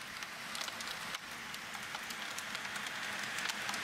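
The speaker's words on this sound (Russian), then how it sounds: "Смотрите, град." Hail falling outside a window, a dense, steady patter of close, crisp impacts continuing throughout without talk.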